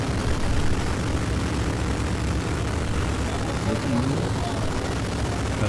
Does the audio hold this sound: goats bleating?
no